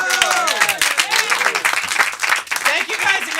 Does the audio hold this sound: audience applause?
yes